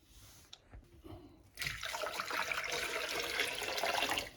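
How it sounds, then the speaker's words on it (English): Warm water pours steadily from a tap onto bottles of sweet sparkling cider being readied for pasteurization, a brief bump first, then a continuous close, loud gushing stream. "And now just put warm water on it."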